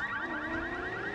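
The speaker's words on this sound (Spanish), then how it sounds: "¡Saltan las alarmas!" A car alarm blares in the video game 007 Blood Stone during a driving sequence, its steady, loud electronic warble cycling repeatedly in a rising sweeping pattern with no speech over it.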